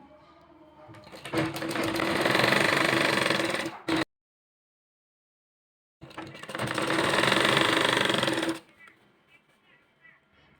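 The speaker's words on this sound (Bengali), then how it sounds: "পুরোটাই আমি আস্তে আস্তে সেলাই করে নিলাম।" A sewing machine slowly stitching elastic into a salwar runs in two long steady bursts of close, loud mechanical whirring, separated by a pause of silence, with light handling noise after the second burst.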